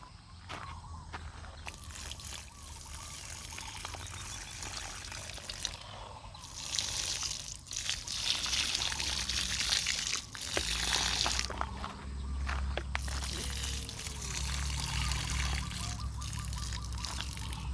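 Egg and fresh milk hormone solution is poured onto flowering tomato plants outdoors, a steady splashing trickle of liquid that continues throughout, close by, with a low background hum.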